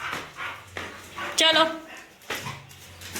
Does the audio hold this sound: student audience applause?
no